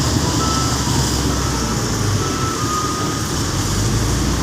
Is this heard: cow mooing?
no